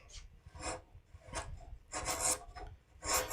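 A skew chisel shapes wood during carving with short rasping scrapes in uneven bursts, about six strokes. They are close but fairly quiet, with no voices.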